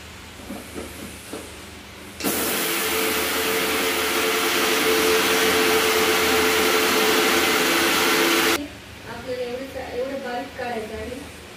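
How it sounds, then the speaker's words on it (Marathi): A kitchen mixer grinder whirs loudly and steadily for about six seconds as it grinds mustard seeds for mango pickle. It starts and stops abruptly, with a person talking before and after. "आपण आता कराळ हे मिक्सरला फिरवून घेऊया."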